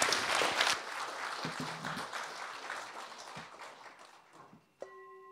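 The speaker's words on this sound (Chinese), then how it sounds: "让我们以热烈的掌声欢迎大家一起来参加同修。" An audience at a temple gathering applauds to welcome participants, a dense burst of clapping that gradually thins and fades over several seconds before a brief tone sounds near the end.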